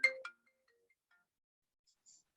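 A phone ringtone plays through a computer during a virtual conference, as a short bright burst of tones at the start and then a few faint, scattered blips in near silence.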